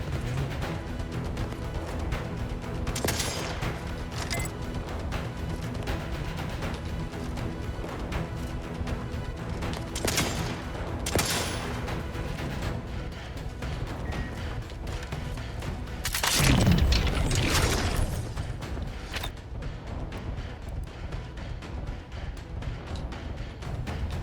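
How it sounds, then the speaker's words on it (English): Scattered bursts of assault rifle fire in the sci-fi shooter The Outer Worlds 2, sharp cracks and booms spaced across a steady game soundscape, with one heavier crashing blast partway through. "All I have is assault rifles."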